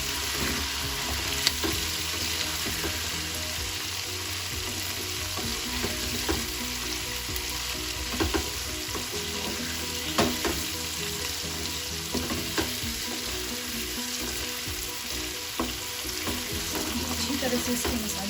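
Chicken fries with spices in a karahi for spicy chicken karahi. A dense, steady sizzle runs throughout while a utensil stirs and scrapes in regular, soft knocks.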